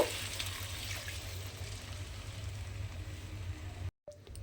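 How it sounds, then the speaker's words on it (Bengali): Water is poured into a cooking pot of sautéed potatoes and kohlrabi for a vegetarian dish, a steady rushing pour lasting about four seconds before it abruptly stops. "এখানে আমি পরিমাণ মতো জল দিয়ে দেব।"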